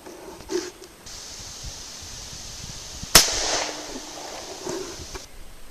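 A single sharp gunshot from a Smith & Wesson 686 .357 Magnum revolver firing cast-bullet loads at a 33-yard range, one loud crack midway with a short decay, surrounded by steady outdoor background hiss.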